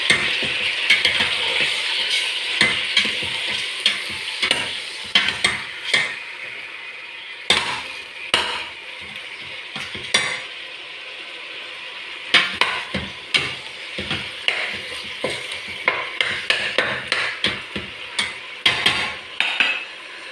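Chicken sautéing in a pan for Filipino tinola, with steady sizzling frying and repeated sharp scrapes and clacks of a utensil stirring against the pan, loud and close throughout.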